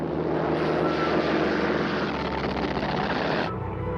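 Droning propeller aircraft engines in a wartime attack on two ships off Malaya, a dense continuous roar that holds steady, then drops abruptly near the end, with no voices.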